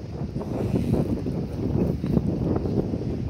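Strong outdoor wind buffets the microphone in a steady, loud rumbling roar with gusty swells, heard alone without talk.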